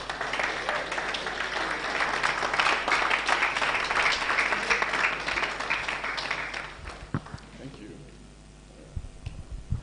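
Audience applause at a tech conference session in Cape Town fills the room with dense, steady clapping for several seconds, then thins out toward the end with a few scattered claps and voices.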